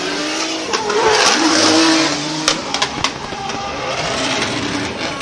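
Nissan 370Z drift car with a VR engine, run by the Altis Tire Drift Team Fukushima, revs hard through a Formula Drift Japan qualifying run at Ebisu, with loud continuous engine roar, tire squeal and a few sharp bursts near the end.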